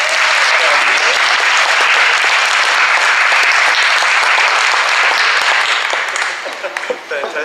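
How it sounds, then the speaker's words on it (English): Loud, steady round of clapping from a crowd at a thank-you wrap-up event for volunteer helpers, sustained for several seconds before thinning out near the end. "This is a big round of applause for our helpers"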